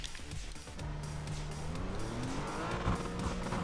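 GT3 race car engine in the iRacing sim, a steady loud roar with shifting engine tones as it accelerates, alone without voices.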